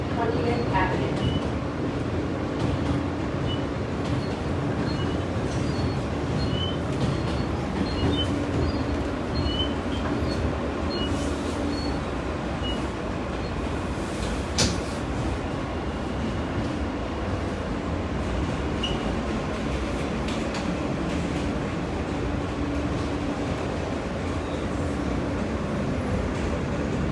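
An F train on the New York subway running over the D line toward Coney Island, a continuous rumble of wheels and carriage with occasional clanks and squeals, close and steady throughout.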